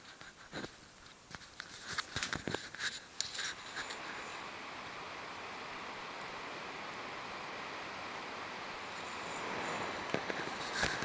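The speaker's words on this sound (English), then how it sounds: "the fan noise is really not loud at all. The best way to describe it is like a light breeze." Cooling fan of an Acasis Thunderbolt 5 enclosure for a Mac mini runs in a quiet office. After a few light clicks, a soft, steady airy hiss like a gentle breeze holds at a low level.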